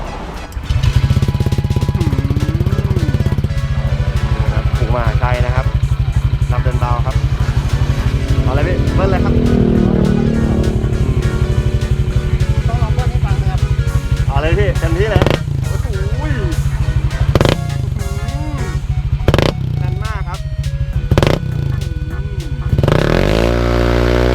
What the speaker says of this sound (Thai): สตาร์ทรถให้ผมฟังหน่อยครับ